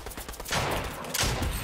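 Mythic SMG in Fortnite firing in fast bursts, loud rapid crackling gunfire in two clusters with brief gaps between.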